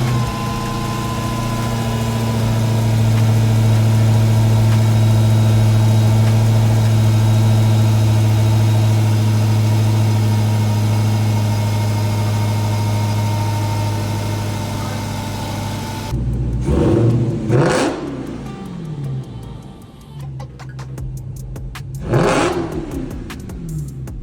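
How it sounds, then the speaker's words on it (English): A Dodge Challenger Hellcat with a drop-top conversion idles with a loud, deep, steady rumble. The engine note then cuts off, followed by two sharp rising revs that fall back, heard close up. "Show them what it sounds like. Show them what it looks like. Show them some cold starts."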